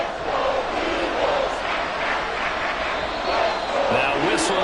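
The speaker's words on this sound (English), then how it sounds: "The crowd's not doing that O-line any favors." Simulated stadium crowd in a football video game, Raiders versus Eagles, a steady roaring wash of cheering and babble that stays loud and dense throughout with no distinct pauses.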